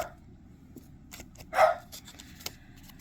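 A dog barks once, faint and somewhat distant, amid quiet paper and card-crafting rustles and small clicks at a work table.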